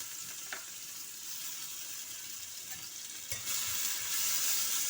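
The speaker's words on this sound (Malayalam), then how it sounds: "ചുവന്നുള്ളി ചതച്ചത് ഇട്ട് കൊടുക്കാം." Crushed shallots frying in coconut oil give a steady, fairly quiet hiss that swells louder about two-thirds of the way through, with faint stirring clinks and no speech.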